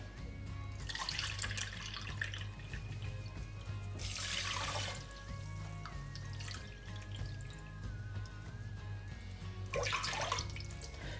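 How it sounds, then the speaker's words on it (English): Two cups of water run from a tap into a pot for an oatmeal hair mask, with several bursts of splashing flow between quieter stretches, set against a low steady hum and no talking. "And then for the water, I'm going to add 2 cups."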